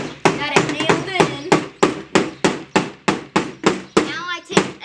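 Nails are driven into a DIY wooden bird feeder with a steady run of about a dozen loud, close hammer blows, each a crisp knock that rings briefly before the next.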